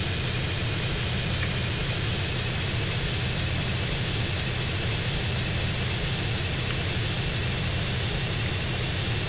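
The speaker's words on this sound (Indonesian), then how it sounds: "kalau kita naik pesawat kayak gini" An airplane flies in GTA San Andreas with a constant loud jet engine roar and high whine, steady and unbroken, with no talk.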